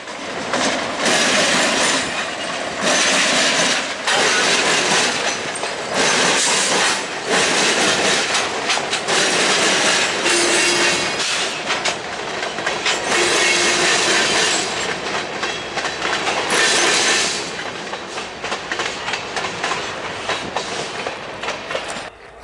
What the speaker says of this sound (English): Here we see the train crossing over the CN tracks at the diamond.